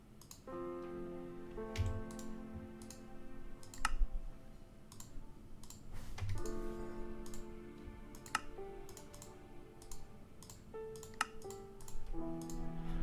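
Rapid computer mouse clicks during Minecraft play, crisp irregular taps scattered throughout, set against sustained in-game music tones, fairly faint and without speech.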